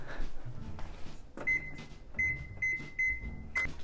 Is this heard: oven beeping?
yes